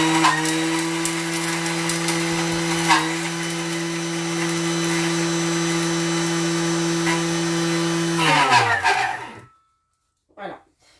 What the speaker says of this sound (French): Insérez le couvercle et le gobelet doseur et là on va mixer. 10 secondes, vitesse 10, on fait le bruit.